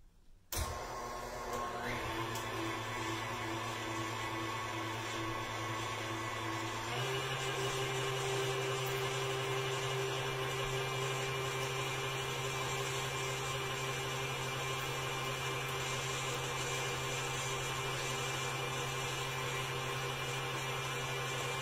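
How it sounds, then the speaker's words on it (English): Electric stand mixer with a dough hook kneading bread dough for pan de muerto, a steady whirring motor drone that starts after a brief clatter and holds a constant pitch throughout, close and continuous. "I'm going to use my mixer with a dough hook"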